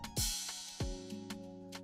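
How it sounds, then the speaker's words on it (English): A ride cymbal acts as an impact in an Afrobeat song: a bright shimmering wash that rings and decays after a couple of strikes, paired with deep low booms, heard close within a short production excerpt. "next up we also have this ride that served as an"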